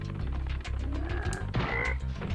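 A frog in the Spyro 2 video game croaks in a short run of bubbly, rising calls, close and clear, with no talk over it.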